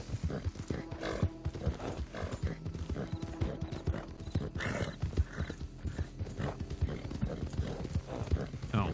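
Horse hooves clip-clop in a brisk, uneven rhythm on a ride in Red Dead Redemption 2, close and steady throughout, with snorts and faint whinnying mixed in.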